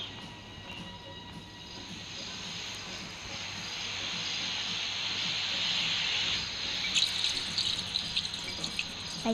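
Fuel glugs steadily from a gasoline can into a vehicle's tank in a video game, a continuous close liquid pour that swells louder toward the end with a few small clicks.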